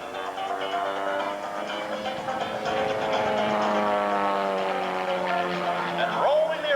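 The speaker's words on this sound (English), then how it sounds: "And rolling the airplane around and around and around again." An aerobatic airplane performing rolls at an airshow drones steadily with a harmonic engine tone that shifts in pitch, underneath a voice on a loudspeaker.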